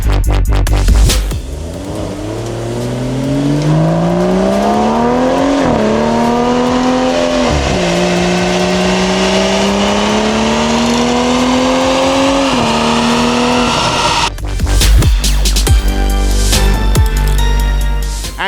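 A BMW M340i LCI on a dyno is revved through a full-throttle baseline pull, the engine note climbing steadily with a few brief lifts between rising sweeps, loud and close, with the idle and blips audible before and after.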